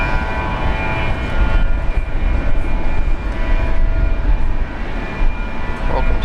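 A China Airlines aircraft at Brisbane Airport produces a loud, sustained engine roar with a steady low rumble and tonal whine, while a person talks over it.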